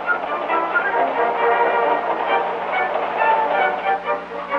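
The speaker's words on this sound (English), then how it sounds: "Again a train broken up, cars switched, classified according to destination" Railroad yard in 1950s Illinois with switch engines breaking up a train and switching cars, a steady loud rolling rumble and clatter of moving rail cars with no pauses.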